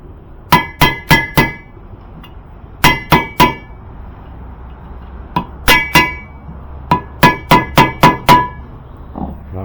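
A metal wrench used as a hammer knocks a vehicle lift part down during lift installation, giving sharp, ringing clangs close by in quick bursts of three to five strikes with short pauses between them.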